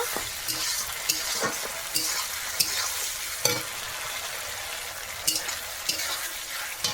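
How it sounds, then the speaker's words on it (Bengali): Spices frying and being stirred in a wok for a red chicken curry, a steady close sizzle broken by repeated sharp scrapes and clinks of the spatula at uneven intervals. "কড়াইতে মশলাটাকে ভালো করে কষিয়ে নেব"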